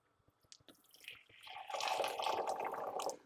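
Stock is poured into a soup pot for a romaine lettuce and pancetta soup: a few drips and splashes, then a sustained liquid rush and gurgle heard up close.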